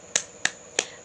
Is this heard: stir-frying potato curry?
no